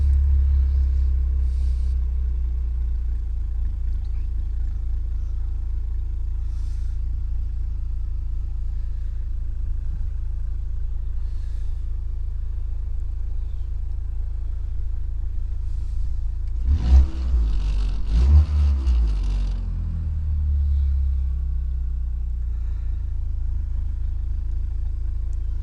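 A 2024 Vanderhall Carmel GT idles with a low, steady rumble, then gives a brief rev near the middle before settling back into a smooth idle. The engine is close and no one speaks.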